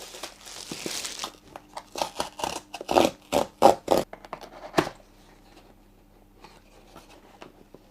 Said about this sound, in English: let's unbox it and test it and see this model in practice